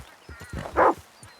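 A dog barks a few times in Red Dead Redemption 2, short close yaps rising to one louder bark, with hooves and game ambience faintly underneath.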